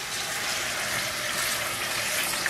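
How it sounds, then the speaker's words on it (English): Water pours steadily into a thickening mushroom sauce in a pan while cooking aboard a boat, a continuous close gushing hiss without pause. "We're going to add a bit more water to it."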